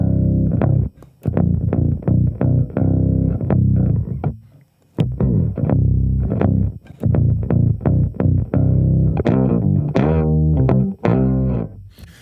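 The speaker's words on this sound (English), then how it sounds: "So that's a little HOFNER bass on the rock setting." Hofner Beatle bass played through an octave-down pitch effect on a rock setting gives a loud, thick, distorted run of plucked notes with a brief gap near the middle, alone without talk.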